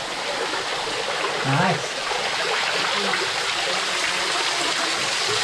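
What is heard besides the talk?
water flowing through an 1800s lead mine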